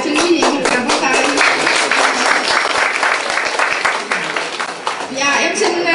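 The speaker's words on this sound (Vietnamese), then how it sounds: "xin quý vị một tràng pháo tay" Sustained audience applause at a 2003 Vietnamese reunion gathering after a musical performance, a dense, steady wash of many hands clapping close and loud throughout, with some voices mixed in.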